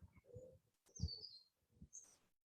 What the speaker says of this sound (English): there's the sounds of bird songs and aeroplanes and cat bells and the breeze